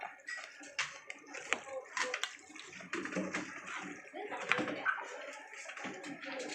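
Vegetables, including beans, are swished and washed by hand in a large basin of water, with continuous close sloshing and splashing throughout and faint voices in the background.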